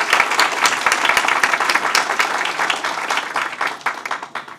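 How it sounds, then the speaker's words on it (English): Applause for a career and technology center teacher at a Maryland State Board of Education meeting, a crowd clapping steadily with crisp individual claps standing out, fading toward the end. "if we could please have a round of applause for him."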